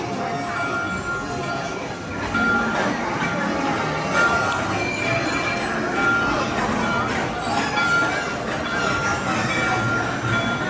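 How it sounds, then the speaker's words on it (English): A Disneyland park train ride rumbling along with continuous wheel and car noise and faint clinks, as people talk over it throughout. "Want to take a ride on the train?"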